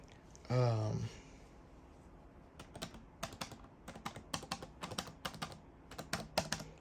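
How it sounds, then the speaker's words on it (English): Arcade buttons on an Octopus fight stick click in a quick, snappy run of sharp taps, some in close pairs. A brief low hum comes first, then the button presses repeat unevenly, close and crisp. "Buttons feel good, snappy. Okay, clicks, okay."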